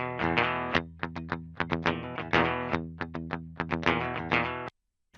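Clean electric guitar riff played without a distortion pedal on a heavier rock track, rhythmic strummed chords and single notes with clear ringing harmonics, moderately loud, ending abruptly in silence.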